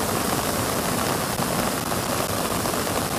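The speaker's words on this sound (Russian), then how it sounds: "Так, дождь снова усиливается." Heavy rain pouring steadily outdoors near a waterfall, a dense unbroken hiss of falling water that stays loud and even throughout with no voices.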